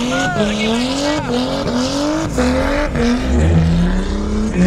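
A car drifts at a Northern Festival of Speed 2025 race event, its engine rising in repeated revving sweeps with tire squeal, loud and close throughout.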